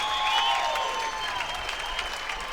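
Crowd applauding at a professional women's doubles pickleball match at the U.S. Open, a dense, steady wash of clapping and cheering held throughout with no talk over it.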